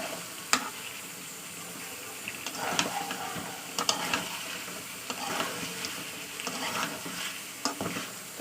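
Spices and green peas are sautéed in a pan with a spatula. A soft oily sizzle runs throughout, broken by irregular scraping and clinking strokes at close range, with no voices.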